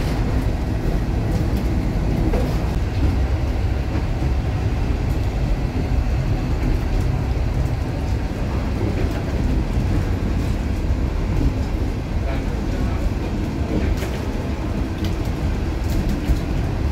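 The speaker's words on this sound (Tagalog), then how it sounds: "medyo matastas na rin ang narating ng train" A train climbing a mountain gives a steady, loud rumble throughout, with a dense low roar and faint rail clatter and no voices.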